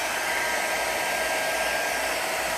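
A heat gun or hair dryer blows hot air onto the back of a Galaxy S7 phone to loosen the adhesive, making a steady, close, even whoosh that continues alone for the whole clip.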